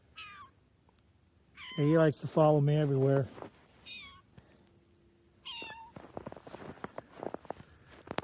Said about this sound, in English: I don't know if you hear my cat behind me. He's crying.